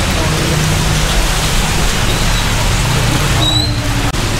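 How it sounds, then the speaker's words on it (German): Rain falls steadily in Chiang Mai as a loud, continuous hiss that fills the background, with no talking heard. "Hier wohl im Hintergrund regnet es wieder."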